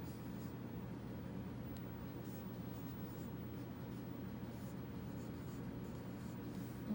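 A pen or pencil writes fractions by hand, a faint steady scratching close by, heard over a constant low room hum with no talking.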